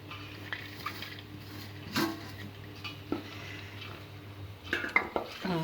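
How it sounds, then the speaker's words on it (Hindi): Garlic being mixed into millet flour in a large pot: soft scraping and clinking of utensil against metal, with a couple of louder knocks near the end, fairly quiet and without talk. "अब ये सारा मैं इसके अंदर मिक्स कर दिए।"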